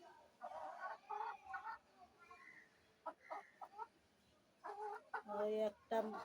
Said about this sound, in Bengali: ব্যালকনিতে একটা মুরগি আছে